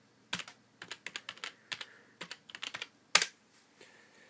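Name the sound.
typing a password on a computer keyboard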